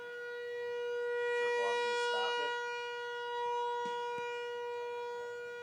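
A siren wails steadily at moderate loudness at an American Legion baseball game, holding a sustained tone with faint crowd noise and a few knocks underneath.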